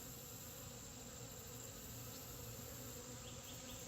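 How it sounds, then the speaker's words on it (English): Steady, dense buzzing of many honeybees around a beehive colony, close and continuous throughout with no pauses or voices. "I've been looking at these bees closely for a while too"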